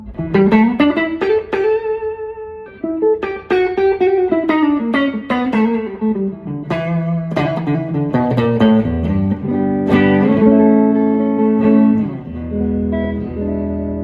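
A warm, full electric guitar played through a Fender '59 Bassman LTD tube amp with only reverb on plays a melodic run of single notes and chords, notes ringing out with a spacious reverb tail.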